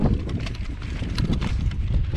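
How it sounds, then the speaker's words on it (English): Wind buffeting the microphone during an off-road ride on a SameBike L026 electric bike, gusty rumbling bursts with bumpy rattles, close and fairly quiet. "there's a bit of wind there"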